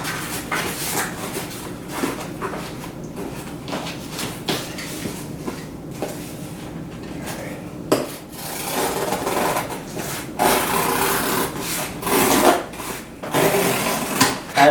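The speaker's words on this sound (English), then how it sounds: "I just made an indentation into this box with this cutting wheel." A cutting wheel rolls and scores along a flattened cardboard box in a steady, close scraping and rumbling rasp that swells louder toward the end, with no talking.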